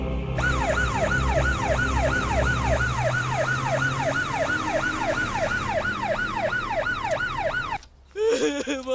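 A loud ambulance siren wails in a steady, rapid rising-and-falling cycle for most of the stretch, close by over a low rumble, then cuts off abruptly near the end, where a short burst of other noise follows.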